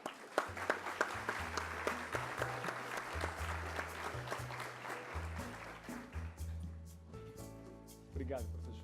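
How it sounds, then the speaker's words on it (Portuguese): Applause for a vice-rector at a university innovation congress on health monitoring and digitalization, clapping in a dense wash that fades toward the end while a low musical tone plays underneath. "Vamos aplaudi-lo."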